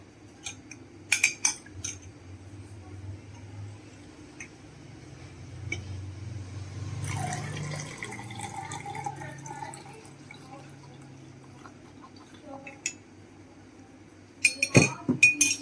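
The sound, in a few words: making tea, stirring with a spoon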